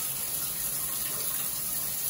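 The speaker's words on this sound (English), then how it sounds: "you're going to fill it all the way up to the top because it's the water that creates the vacuum" Water runs steadily from a tap into a Bathmate Hydro Pro pump, a continuous close hiss and splash of filling with no talking.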